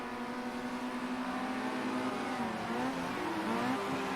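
Racing car engines in an eSports racing game drone and rev steadily, their tones shifting up and down as the cars brake and accelerate, with no voices over them.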